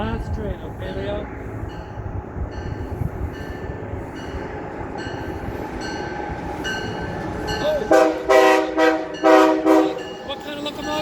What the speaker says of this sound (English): What kind of locomotive is that? HHP8! Look, it's an electric one!